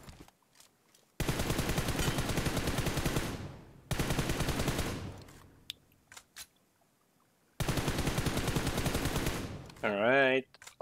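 Rapid automatic gunfire from a video game shooter rings out in three long, loud sustained bursts separated by brief pauses, ending with a short warbling electronic tone.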